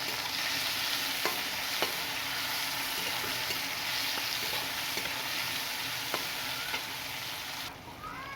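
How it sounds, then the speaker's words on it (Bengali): Bitter gourd fries in oil in a pan, giving a loud, steady, close-up sizzle that runs throughout, punctuated by occasional light clicks of stirring, with no talking. "এবার করলাগুলোকে আমি লাল করে ভেজে নেব।"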